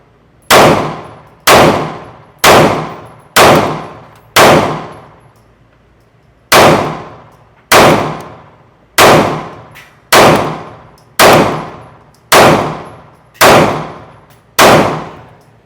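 A 9mm 2011 pistol fires at steel targets, thirteen sharp shots about a second apart, each ringing out with a clanging metallic decay, five shots, a short pause, then eight more, loud and close with no talk.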